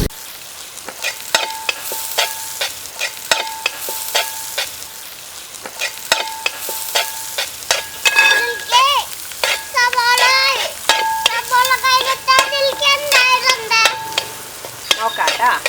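Finely chopped small onions fry in a pan while being stirred, with sharp rhythmic scraping and clinking of a utensil over a bright sizzle that grows busier toward the end.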